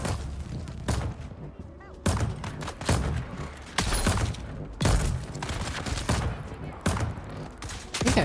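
Gunfire in a video game, a run of loud, repeated broadband bursts roughly every second, close and dominating the mix.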